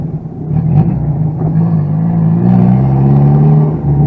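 Worn Toyota car on the road needing new axles, engine humming and rising as it accelerates, with a deep rumble and steady drone from inside the car, fairly loud, no talk.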